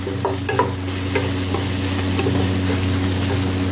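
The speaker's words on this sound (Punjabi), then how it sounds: "ਥੋੜੀ ਜਿਹੀ ਪਾਵਾਂਗੇ ਰੈੱਡ ਮਿਰਚ ਇਹਨੂੰ ਕਰ ਦਿੰਦੇ ਆਪਾਂ ਮਿਕਸ" Red chili being stirred into a vegetable curry in a pan, heard as a few scraping strokes over a low sizzle and a steady background hum, with no speech.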